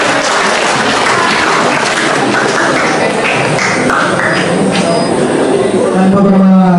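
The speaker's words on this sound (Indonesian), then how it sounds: "Tepuk tangan keseluruhan dulu." Dense, sustained clapping from a school audience after a student presentation about the history of the Youth Pledge at a high school in Kupang, filling the room evenly for several seconds.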